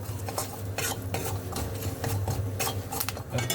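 A spoon scrapes and stirs spice powder and cut idli pieces in a hot pan, with steady clinking and a light sizzle throughout and no talking.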